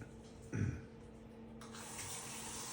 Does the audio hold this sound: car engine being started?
no